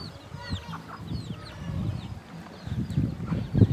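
Chickens clucking around houses in a Mangkong ethnic village in Laos, near the Xe Lanong river, with short chirpy calls and low scratchy murmurs rising and falling over steady outdoor background.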